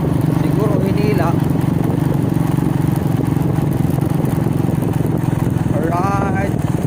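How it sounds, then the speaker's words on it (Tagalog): A motorcycle engine idles steadily and close by with a dense, throbbing low drone, while voices briefly call out over it twice. "Umandar na rin yung motor."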